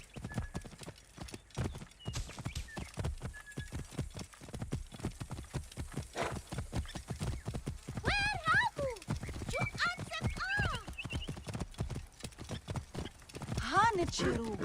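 Horses in the Assassin's Creed Origins video game clatter with quick, steady hoofbeats throughout, and several loud neighs and whinnies rise in the middle and near the end, while voices talk underneath.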